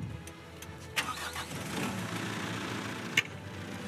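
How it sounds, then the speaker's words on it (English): A municipal tractor engine cranks and catches, settling into a low, steady running rumble nearby, with a couple of sharp clicks. "So you can start the engine and go ahead to the other side."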